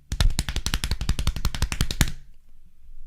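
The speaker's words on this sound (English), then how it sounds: "That's the sound of his feet coming up here." A rapid, even run of close, punchy footfall thumps, like a comic running sound effect, pattering steadily for about two seconds before stopping abruptly into quiet.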